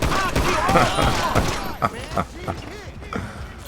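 Gunfire from the video game GTA 5 with a graphics mod, a rapid cluster of sharp shots followed by a few scattered bangs and thuds, loud and close over game background noise.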